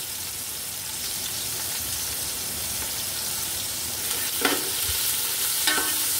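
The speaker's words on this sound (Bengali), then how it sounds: "এবার আমি কিছু পেঁয়াজ কুচি দিয়ে দিচ্ছি, এগুলো কিছুটা বেরেস্তা করে নিব" Chopped onions fry in hot oil for fried onion topping for pulao, giving a steady close sizzle with a couple of sharp stirring scrapes near the end.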